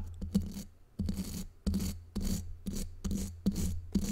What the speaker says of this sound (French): Je vais vous brosser comme il faut. Alors je brosse un petit peu là.